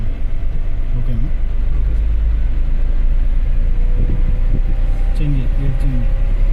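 During a driving lesson, a car engine rumbles steadily and loudly through a gear change, with a low drone underneath. Voices speak over it in short bursts.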